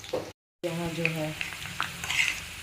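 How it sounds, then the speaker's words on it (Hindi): Jackfruit pieces fry in a pan, producing a close, steady sizzle broken by a brief silent gap, with light stirring clicks and faint tonal kitchen sounds in the background. "कटहल फ्राई हो रहा है।"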